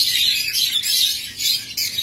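Caged diamond doves, breeding pairs kept among Australian doves for sale, give steady high chirping calls that pulse in overlapping bursts across two seconds, close and fairly loud, with no talk.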